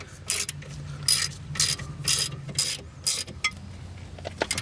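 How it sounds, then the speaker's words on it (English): A hand ratchet clicks in quick bursts while tightening bolts on the rear axle of a Jeep Grand Cherokee, with about six crisp, close rasping runs separated by brief pauses and faint metallic handling sounds; no talking. "Then you got your ratchet here."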